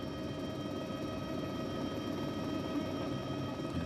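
A helicopter flying over the 2007 Flèche Wallonne professional bicycle race gives a steady, continuous rotor and engine drone at moderate level, with no talking.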